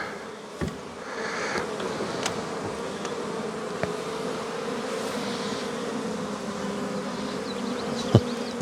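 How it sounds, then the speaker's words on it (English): Dense, steady buzzing of many bees swarming close by, with occasional louder passes as individual insects fly near. "Bees everywhere, that's for sure."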